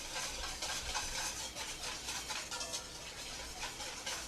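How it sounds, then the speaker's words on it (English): A whisk beating vinaigrette dressing in a bowl while oil is streamed in: a close, continuous rhythmic swishing and clicking that stays steady throughout, with no voices. "I'm constantly moving my whisk around so I can incorporate"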